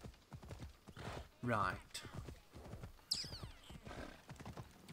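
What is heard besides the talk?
horse hooves galloping in video game Assassin's Creed Odyssey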